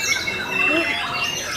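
A white-rumped shama at a bird singing contest calls in a quick, busy string of bright chirps and whistling notes, fairly close and continuous, with faint background noise.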